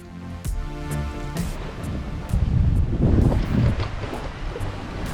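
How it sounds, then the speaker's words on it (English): Wind buffeting the microphone aboard a sailboat on the Atlantic in light conditions with flat seas, a steady rushing roar with gusty swells and faint sounds of the boat underneath. "So it's such light sailing conditions, flat seas and about 10 knots of wind, which is just awesome."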